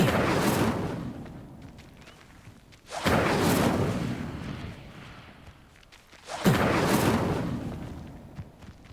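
Incendio fire spell cast in Hogwarts Legacy, flaring up in three loud, breathy whooshing bursts at regular intervals, each fading into a low crackling rumble.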